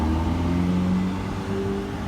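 A car on a Chicago street produces a steady, moderately close low engine hum with a slight rise in pitch, heard alone and briefly.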